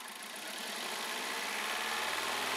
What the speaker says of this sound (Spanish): arrancamos el motor. Luego de 3 a 5 segundos, suavemente levantamos las revoluciones.